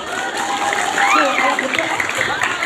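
An audience claps together at a school literacy gathering, a dense, steady wash of applause that holds for the whole stretch with a voice faintly showing through.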